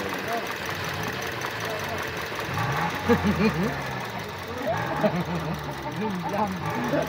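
Toyota Vios gen 3 single VVT-i engine with a misfire, running steadily with an uneven, knocking idle that swells in short bursts; speech is present over it.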